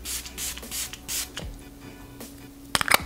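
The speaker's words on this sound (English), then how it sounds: "I'm gonna go ahead and use this setting spray again one more time." Makeup setting spray misted from a pump bottle, several quick close hisses in a row, with a few small clicks and taps of the bottle near the end.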